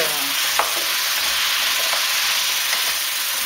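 Thawing frozen courgettes and vegetables being stirred in a pot for a one-pot couscous, with a steady hissing sizzle and occasional scrapes of the spoon against the pot, brief tonal sound at the start.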